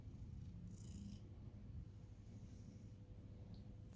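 A cat purrs steadily and close up while tasting a Lidl pâté, a continuous low rumbling purr with no talking over it.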